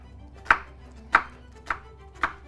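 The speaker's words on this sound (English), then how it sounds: "Need a chopped a small onion" A knife chops a small onion on a cutting board, four sharp, evenly spaced cuts at a moderate pace, close and clear with no talking.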